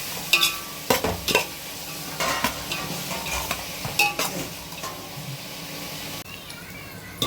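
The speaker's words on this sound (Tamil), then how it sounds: "வெங்காயம் இந்த பிரியாணிக்கு வெங்காயம் தான் ஹைலைட்டே. நல்லா செவக்கணும், பொன்னிறமாக வதங்கணும்." Sliced onions frying golden in oil for a Hyderabadi biryani, a steady close sizzle broken by sharp clanks and scrapes of stirring, with no talking.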